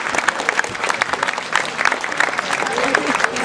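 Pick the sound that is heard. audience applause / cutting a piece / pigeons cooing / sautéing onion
audience applause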